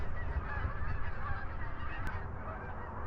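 Sandhill cranes call along the Alaska Highway, their rough honking notes fairly faint and partly buried in steady outdoor background noise; no one speaks.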